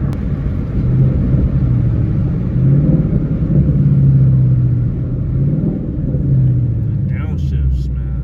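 A 2014 Ford Mustang GT V8 rumbles while downshifting in Sport Shift mode on a cruise, a low, steady engine drone from inside the cabin that rises and falls through several rev blips, with a brief voice near the end.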